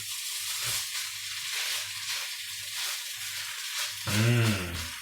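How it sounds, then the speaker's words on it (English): Rice for Indonesian nasi goreng with prawns and a cracked egg being stir-fried in a hot pan: a steady close sizzle rising and falling with rhythmic stirring strokes, plus a brief tonal hum near the end. "Give another stir, break up that rice if there's any like"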